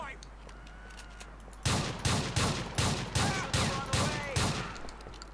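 Shotgun blasts from a new shotgun in GTA IV, eight loud evenly spaced booming shots in a steady rhythm after a quieter opening, each with a short rattling tail.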